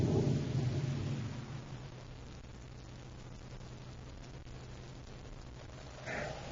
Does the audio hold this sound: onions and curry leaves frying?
no